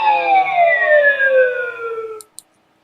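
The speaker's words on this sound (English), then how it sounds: "It's the Wheel of Fortune bankrupt sign." The Wheel of Fortune bankrupt sound effect: a loud descending, sliding electronic tone that droops steadily for about two seconds, then cuts off, followed by two short clicks.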